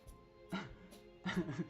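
A dog in Terrafirmacraft Minecraft, heard as a few short faint whimpering yips in quick succession, alongside quiet talk.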